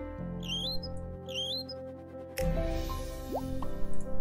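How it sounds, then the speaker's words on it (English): An IV drip in a hospital video game gives soft, repeated watery drip plops, three quick bursts, over a continuous musical background. "Oh great, I gotta do the IV drip."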